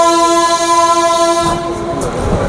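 A small passenger train on the Trichy to Velankanni line sounds a long, steady horn, which then gives way to the loud rumble and clatter of the running train close by.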